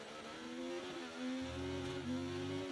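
Ferrari Formula 1 engine in a racing game, a high buzzing whine holding steady with small pitch dips, mid-level and continuous, with a low drone entering partway through.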